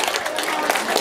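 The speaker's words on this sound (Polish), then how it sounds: "Jeszcze raz duże brawa." An audience at a rural harvest festival applauds in a short, steady burst of clapping, mid-distance and moderately loud, with voices mixed into the sound.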